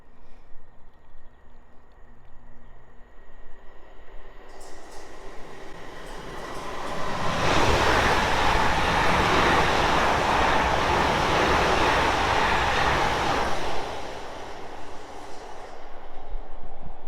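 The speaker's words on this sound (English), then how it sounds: "There's a train coming, stopping on platform 2" A train rolls past a station platform on the South Western Main Line at Fleet, with a distant rumble swelling into a loud, broad roar of wheels and carriages that holds for several seconds before dropping away.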